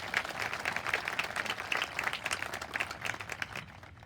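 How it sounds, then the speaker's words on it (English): A graduation audience applauds volunteers with steady, dense clapping that holds for about four seconds. It tails off slightly at the end. "Let's give those volunteers a round of applause"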